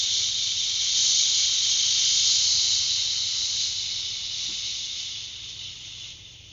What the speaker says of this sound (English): take an 8-second exhale on a shushing sound